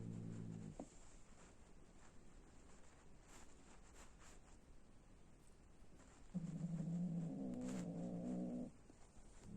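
Low, drawn-out growling from two cats meeting for the first time, one bout early and a longer, louder one near the end, with quiet stretches between.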